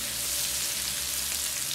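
Garlic and onion sautéing together in a pan, an even, continuous sizzle and crackle at close range with no talking.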